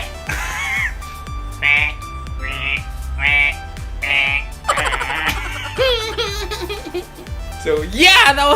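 A voice imitates a frog, giving a run of about five short nasal croaks, then longer warbling throaty calls that rise into a squeaky, laugh-like finish, all close and fairly loud.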